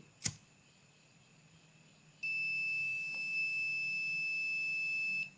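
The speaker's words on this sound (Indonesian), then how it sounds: "buzzer berbunyi, kemudian status sensornya ada api" A loud, steady high-pitched electronic buzzer alarm from a flame-sensor fire detector drones continuously for about three seconds after a brief sharp click.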